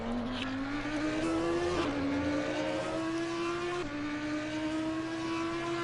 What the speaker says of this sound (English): we've got a very high-pitched V10 Audi GT3 singing its heart out